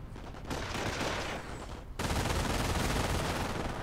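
Gunfire from the Company of Heroes: Tales of Valor WWII strategy game: a dense, continuous volley of rifle and machine-gun shots that drops off briefly, then returns louder and fuller for the rest of the clip.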